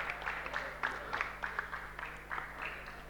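An audience at a rally event claps through a small felicitation ceremony, a moderate patter of hands coming in uneven bursts from a short distance.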